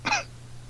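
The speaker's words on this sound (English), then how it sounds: "I've got a little cough, too." A single short, sharp cough from a person, brief and close, followed by quiet.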